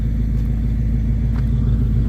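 A pickup truck engine idles nearby with a steady low rumble and even, unbroken throb, no revving or speech over it.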